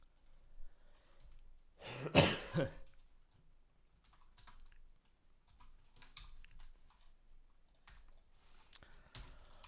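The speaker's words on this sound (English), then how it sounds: "I have a cough from smoking last night." A single loud cough from smoking bursts out near the start, followed by quiet keyboard typing and faint clicks.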